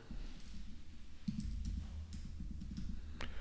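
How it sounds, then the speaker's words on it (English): Soft, irregular keyboard clicks tap away quietly over a low background hum, with no one speaking. "So you're typing in who's receiving it, the address it's going to"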